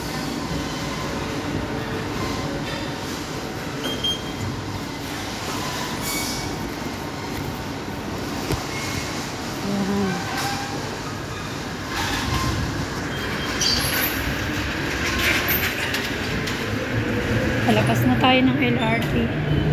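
A light rail train rumbles steadily along the rails, with wheel screeches and clatter building near the end; voices murmur faintly beneath the noise.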